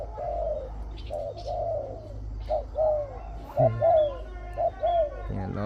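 A decoy dove calls in a wild-bird setting, giving a series of repeated rolling coos at steady intervals, fairly close and clear over a low outdoor background hum.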